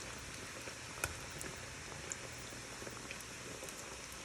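Guatemalan garnachas frying in oil, left to take on color after flipping; a faint, even crackle and patter of oil throughout with a couple of small pops, no voices.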